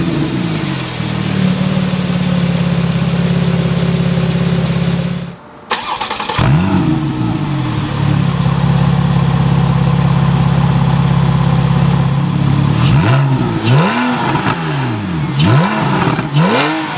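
A 2015 Porsche 911 50th Anniversary Edition starts with a sharp crank and burst, then settles into a loud, steady idle that is briefly cut off. Several rising and falling revs follow near the end, close and with no talking.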